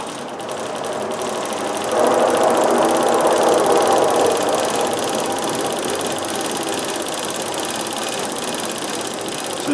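A Singer 24-52 industrial sewing machine runs in a steady, continuous whir, picking up speed and growing louder after a couple of seconds as it sews quickly, then holding a fast, even drone close by.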